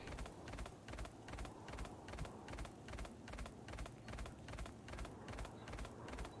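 Rapid, steady hoofbeats of a horse galloping in the video game Death's Gambit, a continuous rhythmic clatter running through the whole stretch with no voice over it.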